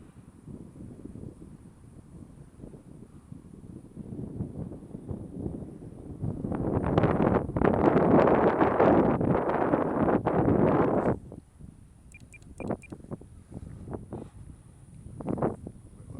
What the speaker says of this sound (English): It is windy, guys. It's probably blowing 10 knots